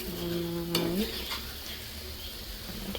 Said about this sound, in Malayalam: നല്ല ഡ്രൈ ആവണ വരെ ഇതിങ്ങനെ വഴറ്റി കൊടുക്കുക.